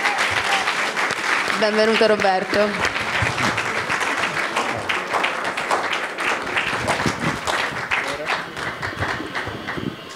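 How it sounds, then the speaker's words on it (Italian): Audience at the Festa del Cinema di Roma film festival applauds steadily to welcome a guest, with dense, sustained clapping filling the room while someone speaks over it. "Accogliamo con un applauso"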